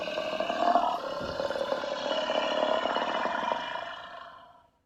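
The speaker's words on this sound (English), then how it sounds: "with a mighty roar" A lion's deep, rumbling roar used as a sound effect in a narrated tale, one sustained growling roar lasting several seconds before fading out, loud and alone.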